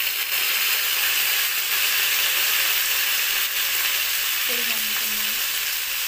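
Chopped tomatoes going into a pan of fish curry, a loud, dense, continuous sizzle and hiss that holds steady throughout, with a faint stirring sound underneath.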